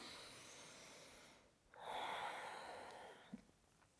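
Slow, deep breathing in a quiet room during a yoga warm-up, a soft, airy exhale followed by a faint inhale, close and gentle with no talking.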